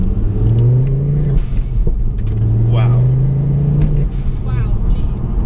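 A modded Ford Focus ST engine accelerates hard from inside the car, its revs climbing in two strong pulls with a gear change between, loud and close, with cabin rumble throughout.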